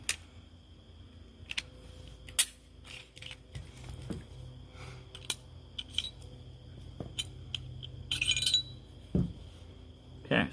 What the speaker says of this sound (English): I'm going to take these two firearms apart and show you the innards